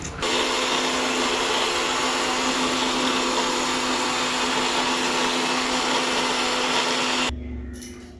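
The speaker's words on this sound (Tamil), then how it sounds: "வறுத்து வச்ச பொருட்கள் எல்லாம் அரைச்சாச்சு." Electric mixer grinder whirring loudly and steadily as it grinds roasted ingredients into idli podi, a constant motor drone that stops abruptly near the end, followed by a brief quieter rattle.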